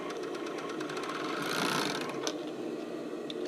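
Sewing machine stitching sports bra straps and armholes, a rapid even mechanical chatter running steadily, close and clear, with a slight swell in the middle and no talking.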